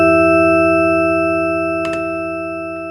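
A dry synthesizer arpeggio of two detuned sine waves, one an octave down, holds steady, loud, sustained tones with no effects, with a short noisy click in the middle.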